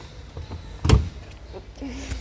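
A washing machine door swings open or shut with one short, solid thunk near the middle, heard close against a quiet room hum, followed by faint low mechanical sounds.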